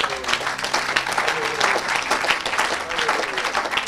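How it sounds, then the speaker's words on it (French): A church congregation applauding and cheering for Jesus, dense steady clapping from many hands filling the room, with voices calling out underneath, loud and continuous throughout. "Est-ce qu'on peut acclamer pour Jésus?"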